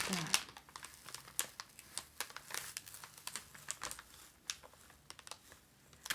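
Crinkly plastic packaging is peeled off while unboxing a swim cap and phone stand, giving a close, continuous run of crackles and sharp little snaps with brief quieter gaps.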